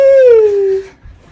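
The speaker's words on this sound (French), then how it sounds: "C'est mon chien." A pet dog gives one close, loud, drawn-out whimpering howl that slides down in pitch and breaks off, then quiet.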